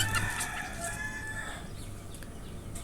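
Desi hens and a rooster clucking and calling at moderate distance, a few short bird calls over a quiet farmyard background, with no speech.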